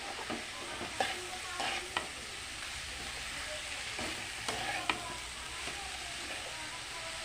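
Papaya greens with fish head, potato and ash gourd being stirred in a pan, a steady low sizzle under scattered scraping clicks of the spatula, close and moderately loud, with no talking.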